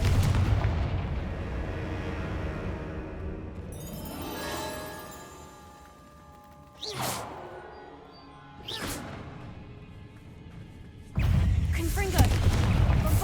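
Spell blasts from Confringo and Bombarda in the Hogwarts Legacy video game, heavy booming explosions with rumbling decay, several bursts spaced apart with sharp whooshing impacts between quieter stretches.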